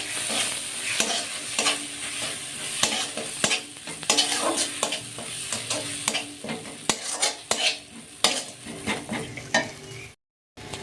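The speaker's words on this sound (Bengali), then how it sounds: "এখন দিয়ে দেবো কাজু আর চারমগজের বাটা। ভালো করে কষিয়ে নেবো।" A spatula stirs and scrapes a cashew and melon seed paste frying in a pan for a restaurant-style palak paneer gravy. The paste sizzles close up under repeated clinks against the pan, with a brief break near the end.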